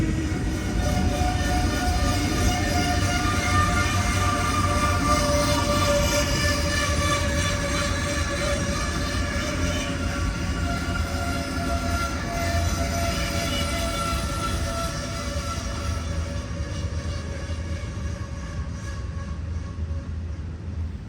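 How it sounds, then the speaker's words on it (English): An Amtrak Auto Train, a long auto-rack passenger train, rolls past on the rails with a loud, continuous rumble and clatter that keeps up for about twenty seconds, with faint squealing tones above it and no voices. "Autotrain is one of the most luxurious auto-rack trains you'll ever see."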